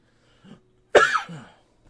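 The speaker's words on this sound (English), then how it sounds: "Stop coughing." A single harsh cough bursts out close to the microphone, preceded by a faint throat noise and trailing into a short voiced tail, during a Minecraft session on Xbox 360.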